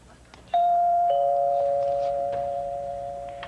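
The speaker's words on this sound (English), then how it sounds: "let's just ring the bell and see who she wants" A single doorbell chime rings out clearly on a late-night television show, two tones struck in quick succession and then left to decay slowly over a faint room background.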